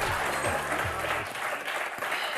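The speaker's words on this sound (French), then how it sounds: "Et on va vous applaudir tous les quatre." Studio audience at the French word game show Motus breaks into sustained, dense applause that fills the whole stretch at a steady, loud level, with a brief low tonal tail fading out near the start.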